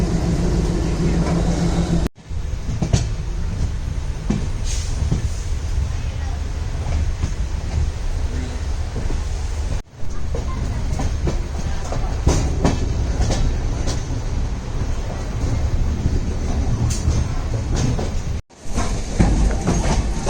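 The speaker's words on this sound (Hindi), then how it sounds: "और मडगांव जंक्शन से रवाना हो चुकी है अपनी ट्रेन।" The Dadar Tirunelveli Express pulls out of Madgaon Junction in the rain, heard from onboard as a steady rumble with rhythmic clickety-clack of wheels over rail joints, loud and continuous, broken by a few brief cuts.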